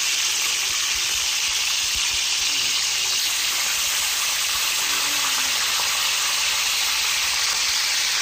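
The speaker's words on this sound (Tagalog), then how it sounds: "Ayan, prituhin muna natin." Pork steak slices fry in hot oil in a home kitchen, a loud, constant hiss and crackle with occasional spattering pops filling the whole stretch.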